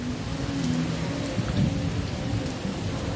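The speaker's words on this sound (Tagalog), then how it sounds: "Pumapatak na naman ang ulan" Rain falls steadily on a house roof, a dense continuous patter with a low rumble underneath, close and even throughout with no voices.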